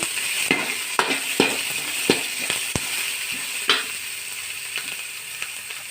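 Onions frying in oil with curry leaves for Tulunada-style Marwai Pundi, a steady close sizzle broken by repeated sharp scraping taps of a stirring spoon against the pan. No talking.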